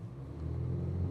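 A 2026 BMW X3 with a four-cylinder engine accelerates in reverse, its low engine drone swelling steadily over about a second, fairly quiet and without talk.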